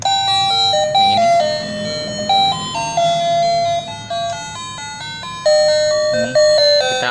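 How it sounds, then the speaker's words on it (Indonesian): An alarm clock's melody setting plays a chiming electronic tune, loud and close, with bright bell-like notes stepping through a simple repeating phrase and no voices. "yang bawahnya itu suara melodi guys"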